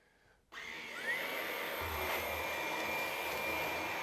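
Ryobi ONE+ HP cordless pet stick vacuum, model PBLSV716K, switching on with a sudden whir and settling into a steady, even motor whine with a faint low rumble, close by and with no talking.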